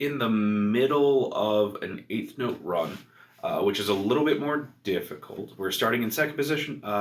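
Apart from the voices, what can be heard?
No everyday noises stand out.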